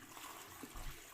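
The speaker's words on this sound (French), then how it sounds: "ça, c'est la chasse d'eau" A toilet flush sound effect, a faint rushing wash of water that swells briefly and stays low in the background.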